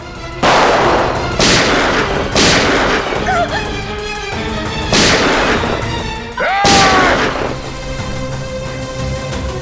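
Gunfire in a Hindi crime TV drama, with several loud, sharp gunshot blasts spaced across the scene, ringing tails and a swooping effect after two of them, with no speech between the shots.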